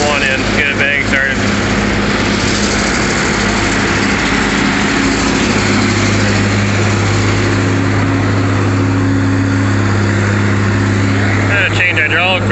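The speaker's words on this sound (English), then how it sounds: "conveyor belt runs off the tractor or elevator" A tractor steadily drives a conveyor belt elevator, its engine droning loudly and continuously close by with a constant mechanical hum and no pauses.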